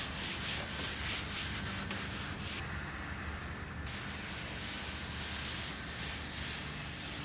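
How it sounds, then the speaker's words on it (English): Steady, hissy rubbing and scrubbing at close range as fine steel wool with acetone strips old finish from a wooden Art Deco buffet, a continuous abrasive scouring that barely pauses, with a soft rough texture throughout. "Then I'm going to apply some acetone with some fine steel wool."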